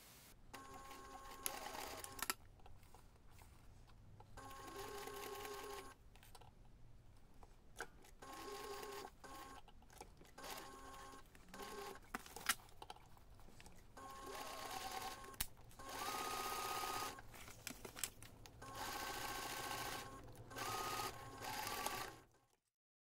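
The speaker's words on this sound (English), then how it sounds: "we're going to take this to the machine and we're going to sew those two seams" Sewing machine stitching the side seams of a two-compartment fabric backpack in several separate bursts with short pauses between, each run steady and rattly, close by with no voices.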